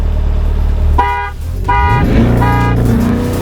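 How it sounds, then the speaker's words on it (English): A car horn honks three times, each blast short and loud, over a low engine rumble. "So I'll honk it 3 times."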